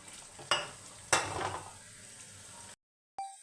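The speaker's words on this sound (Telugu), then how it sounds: "ఆయిల్ బాగా వేడైన తర్వాత మంటను మీడియం హీటులో ఉంచి ముందుగా మనం చేసుకున్న వాటిని ఇందులో వేసుకొని" Jaggery gavvalu dropped into hot oil on medium heat, a steady close sizzle with a couple of sharp splashing bursts as pieces go in, then a brief cut.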